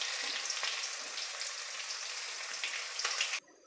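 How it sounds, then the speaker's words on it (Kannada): Crushed garlic cloves, still in their skins, sizzle steadily in hot oil with a dense crackling hiss and faint pops that run unbroken for a few seconds before cutting off abruptly. "ಬೆಳ್ಳುಳ್ಳಿ ಚೆನ್ನಾಗಿ ಫ್ರೈ ಆಗಬೇಕು."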